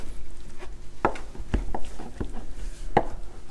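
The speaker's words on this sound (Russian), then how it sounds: "Значит, мясо очень мелко рубим, таким образом." Raw foal meat being finely chopped with a knife, a series of sharp, irregular knocks on a board at moderate distance with no talking.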